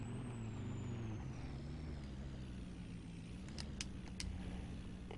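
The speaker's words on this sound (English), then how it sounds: "We're just going to park the truck all the way at the end down here." A parked truck's air brake releases in short hissing bursts toward the end, over a steady low engine idle that runs throughout, fairly close by.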